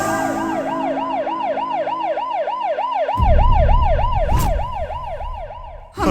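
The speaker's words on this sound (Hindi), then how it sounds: "एम्बुलेंस!" A loud, rapidly wailing ambulance siren cycles up and down continuously, joined midway by heavy low rumbling traffic noise.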